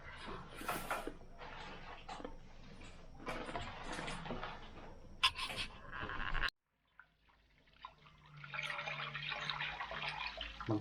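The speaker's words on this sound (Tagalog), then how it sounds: "Magsalin ng tubig." Water splashes and runs steadily for several seconds, then stops abruptly; after a brief quiet, softer running water and a low hum continue, as water is poured while cooking pancit.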